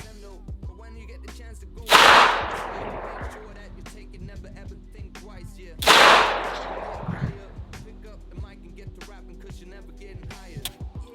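Two loud, sharp gunshots at a shooting range from a new shooter, spaced about four seconds apart, each ringing out with a decaying tail, with a voice speaking quietly between and after.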